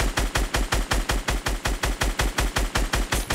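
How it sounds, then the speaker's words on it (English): Rapid automatic gunfire in the Fortnite video game, a fast, evenly spaced burst of sharp shots repeating steadily for several seconds, loud and close with no voices over it. "We need to continue shooting him."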